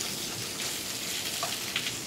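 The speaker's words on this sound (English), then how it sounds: "Do you hear that sizzle?" Pork searing in a smoking-hot pan gives a steady, close, broadband sizzle with a few faint pops and clinks near the end, no talking.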